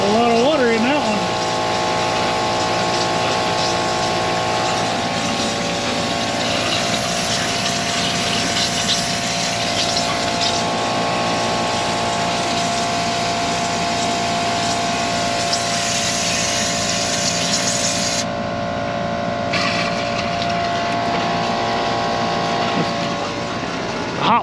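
An air compressor pushes water out of an RV's plumbing lines, a loud continuous hiss and rush with a droning mechanical hum underneath, holding steady and then shifting in tone near the end.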